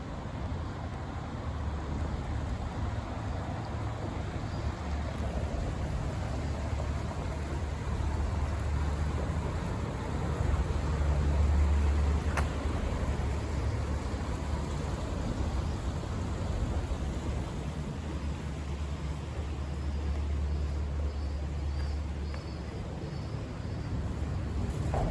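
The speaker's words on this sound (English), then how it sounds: "Hear the rumble of the traffic overhead." Traffic rumbling across a bridge overhead on a riverside walk along the River Wensum in Norwich, a continuous deep droning roar that swells slightly midway, heard from below with no talking.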